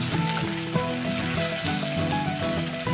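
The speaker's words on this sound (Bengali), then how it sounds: "এবার আদা রসুনের সঙ্গে পেঁয়াজটা একটু ভালো করে আমি মিশিয়ে নিচ্ছি" Onions fry with ginger garlic paste in a pan for a dhaba-style Punjabi aloo gobi, a steady close sizzle broken by scraping, clattering stirs, with faint tonal sounds running underneath.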